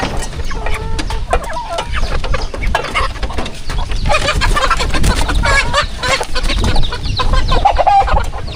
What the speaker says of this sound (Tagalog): Chicken! Rhode Island.